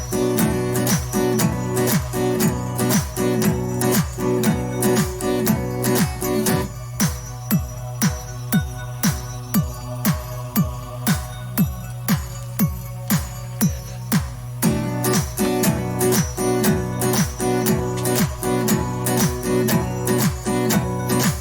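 Recorded song played back with a steady marching beat, regular loud drum hits throughout, a thinner middle stretch, then the full band returning.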